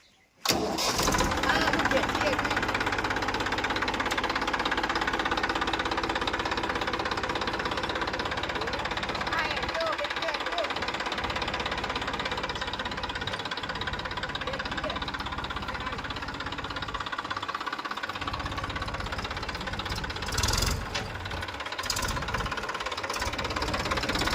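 A tractor engine starts and then runs loud and steady throughout, a constant rumbling drone close by, with voices faintly mixed in.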